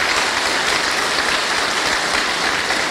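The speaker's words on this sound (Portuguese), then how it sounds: "Uma salva de palmas para esse pessoal que começou." A church gathering of men claps for a group of speakers in a steady, loud, continuous wash of applause that lasts the whole stretch, with no voices over it.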